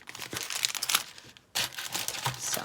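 Plastic bags being handled and crinkled close by, bursts of crisp rustling and crackling that stop briefly, then resume with a louder crumple and keep going without talk.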